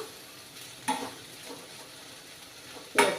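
Oil sizzles softly in a pan while a spoon stirs during tempering of sour dal, with a couple of sharper clinks and crackles cutting through.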